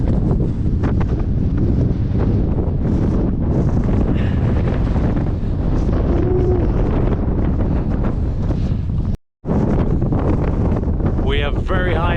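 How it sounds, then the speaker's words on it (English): Strong wind buffets the microphone high on the Tongariro Alpine Crossing, a loud continuous roar with gusts and a brief dropout, while a voice talks faintly underneath. "And the wind is picking up."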